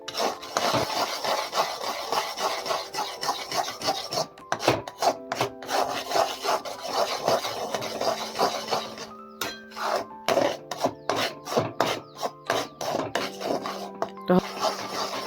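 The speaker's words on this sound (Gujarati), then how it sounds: "ગોળ એકદમ જો ફરો ફરો થઈ ગયો છે ને અને સરસ બ્રાઉન કલરનો થશે પાછો બેસી જાય માટે આપણે સતત હલાવતા જ રહીશું" Steady scraping and rubbing of a spoon stirring melted jaggery in a pan for peanut chikki, a continuous close rasping with rhythmic strokes and no talking.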